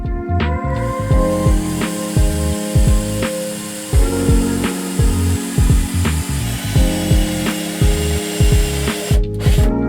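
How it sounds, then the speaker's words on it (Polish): A power drill with a 6 mm bit boring into a cabinet, loud and close, its motor revving in a series of short pulsing bursts with a brief pause near the start. "w szafce wywiercę wiertłem Fi 6"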